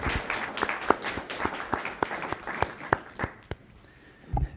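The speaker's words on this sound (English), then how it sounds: "A well-deserved applause" Audience at a Menifee city council meeting claps for a few seconds, a moderate round of scattered hand claps in a room that thins out toward the end.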